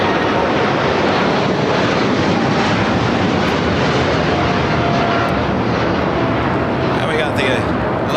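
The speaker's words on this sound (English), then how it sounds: "That was Nippon Cargo Airlines 101 taking off to Tokyo Narita on the 747-8 freighter." Boeing 747-8 freighter taking off at LAX, a loud sustained jet engine roar that fills the whole clip with steady broadband rumble, with voices faintly audible beneath.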